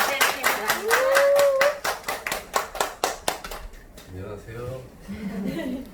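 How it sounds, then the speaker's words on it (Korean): A room full of people claps steadily to welcome a sponsor at a home meeting, the brisk claps thinning out and stopping, and voices then murmur and chuckle. "큰 박수로 네, 맞이해주세요."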